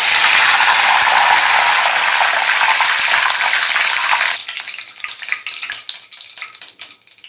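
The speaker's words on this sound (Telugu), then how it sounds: "పచ్చిమిర్చి వేగాక కరివేపాకు వేపేటప్పుడు స్టవ్ ఆపేద్దామండి" Green chillies and curry leaves fry in hot oil with a loud, dense sizzle that dies down after about four seconds, leaving a sparse patter of spatters and light metallic clinks from stirring.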